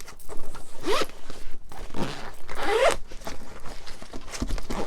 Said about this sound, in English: So go ahead and zip this up.